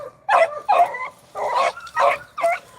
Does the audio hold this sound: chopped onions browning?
no